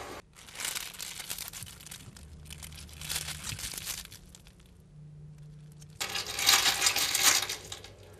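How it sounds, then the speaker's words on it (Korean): A foley artist rustles a grass-like prop that crinkles much like plastic, in three separate bursts of crisp, close crackling with quiet pauses between. "부시럭부시럭하는 풀 소리가 들어가고 있어요."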